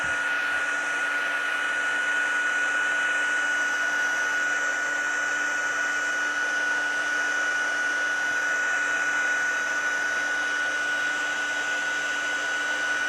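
A heat tool warms patterned handmade paper in a paper craft, giving a loud, steady blowing hiss with a high whine that holds unbroken throughout, with no talking.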